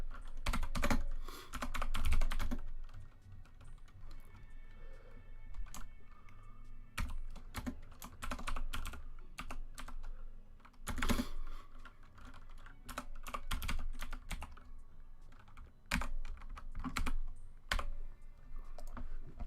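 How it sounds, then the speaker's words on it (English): Steady computer keyboard typing during live game development coding, with bursts of keystrokes separated by short pauses, close and fairly loud, with no speech over it. "doing a lot of typing, but that's just how I prefer to do it in general."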